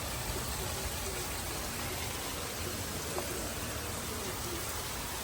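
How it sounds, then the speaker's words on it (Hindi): Heavy rain pouring steadily outdoors, a dense, even hiss with no gaps, loud and constant throughout. "हर वक्त इस तरह से तेज़ बारिश होती रहती है."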